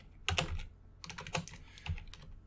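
Keys on a computer keyboard clack in short, uneven bursts at close range, a few heavier presses standing out among quicker taps, while HTML is being typed.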